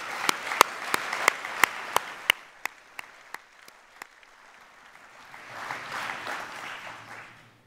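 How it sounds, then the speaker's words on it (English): Applause for volunteers at a community sports awards night in Conwy, opening with a series of sharp, separate claps before fading, then a softer, more distant swell of clapping from the crowd. "So can we give them a round of applause, please?"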